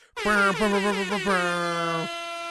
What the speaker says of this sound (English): the guy blasted an air horn